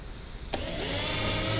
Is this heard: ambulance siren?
no